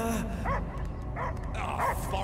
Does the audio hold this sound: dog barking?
yes